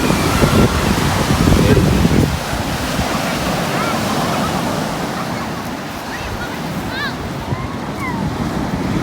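Sea waves wash onto a beach at sunset, a continuous rushing surf with heavy wind buffeting the microphone, louder in the first two seconds and then settling into a steady roar.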